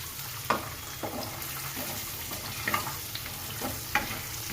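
Green peas frying in a pan for samosa filling, a steady sizzle with several scraping spoon strokes at irregular intervals, close and clear.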